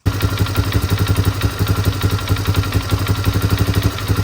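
A Polaris Sportsman 500 ATV engine idles with an exhaust leak, giving a steady, close, rapid low chugging and ticking pulse throughout, without speech.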